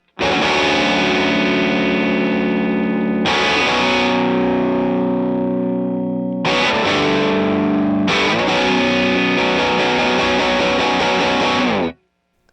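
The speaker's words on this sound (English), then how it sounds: "the guitar will sound something like this" Loud, heavily distorted electric guitar chords from a Gibson Trini Lopez through a Fender Tone Master amp at full volume ring out in several sustained strums, each left to decay before the next, ending abruptly.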